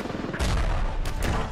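Gunfire in the video game Ravefield during a battle for a snow fort, a few loud booming shots close together over a dense, noisy game backdrop.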